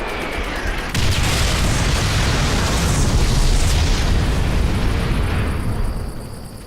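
Artillery shells explode in Call of Duty: World at War, a loud sustained roaring blast that erupts suddenly, rumbles heavily for several seconds, then fades.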